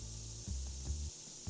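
Spray bursts from a can aimed at smelly customers in the TCG Card Shop Simulator video game, a few close hissing puffs in quick succession with no talking over them.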